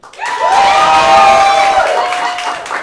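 An improv show crowd bursts into loud cheering and whooping, with sustained high shouts and clapping that swell at once and taper off slightly toward the end.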